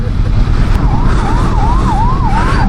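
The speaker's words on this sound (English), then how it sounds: "Ambulance is going." An ambulance siren wails up and down in a steady pattern while passing on a six-lane highway, loud and close over continuous road and engine noise.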